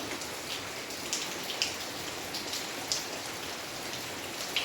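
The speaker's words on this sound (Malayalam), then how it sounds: "മഴ പുറത്ത് മഴ പെയ്യുന്നുണ്ട്" Steady rain falling outdoors, a constant soft hiss with occasional louder drops landing nearby.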